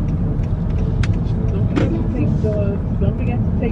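Car interior while driving, a steady low engine and road rumble throughout with occasional faint rattles, under a person talking on the phone.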